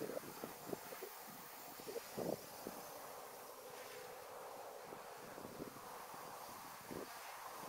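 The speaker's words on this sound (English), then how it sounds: "the wind is really picking up on this time out." Wind gusting outdoors around a small camera drone flight near a house, a steady rushing noise with buffeting bursts on the microphone and a faint insect-like whine throughout.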